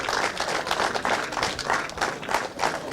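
Clapping at a British kart championship podium for the Junior X30 final finisher, Mick Barrett Racing's number 68; brisk, close applause from a small crowd with rhythmic bursts, continuing throughout.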